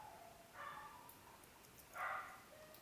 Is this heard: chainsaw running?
no